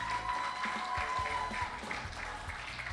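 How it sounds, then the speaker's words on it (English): Congregation applauding preachers at a White Sunday church service, a steady wash of clapping held at even level throughout with a faint voice murmuring underneath. "round of applause for our preachers this morning"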